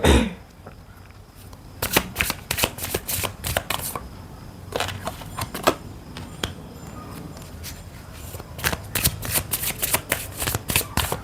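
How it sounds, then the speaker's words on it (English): A deck of cards being shuffled by hand, repeated crisp riffling bursts and flicks in irregular clusters, close and fairly quiet, with short pauses between rounds. "I'll give you a few seconds while I shuffle"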